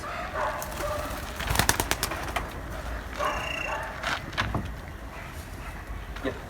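Soft pigeon cooing nearby inside a loft among scattered clicks and knocks, with a few sharp taps and low background rumble.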